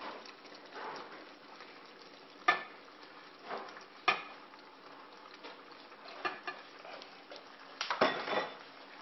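A spoon stirs penne pasta into a turkey lasagna mixture in a skillet, giving soft wet scraping and several sharp clinks against the pan over a low sizzling hiss.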